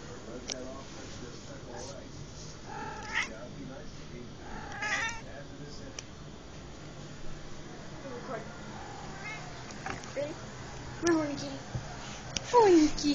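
A female cat in heat yowls and meows repeatedly at close range, drawn-out wavering cries rising toward the end, with a person talking softly between them.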